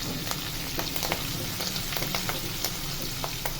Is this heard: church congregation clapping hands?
no